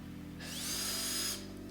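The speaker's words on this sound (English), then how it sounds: "I just used a small drill bit to tap the holes so I didn't split out the wood" A power drill bores small pilot holes in wooden window trim, one steady whining burst of about a second that rises and then cuts off, close and clear against quiet room noise.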